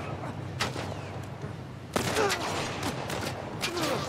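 Gunshots fired one at a time in The Last of Us remake, several loud separate cracks with short gaps between them, followed by a busier stretch of repeated shots and echoing impacts.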